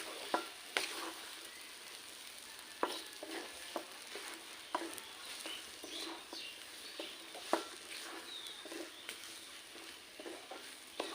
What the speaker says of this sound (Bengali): দিয়ে দেবো স্বাদ মতো নুন, লঙ্কার গুঁড়ো, নাড়াচাড়া করে নেব।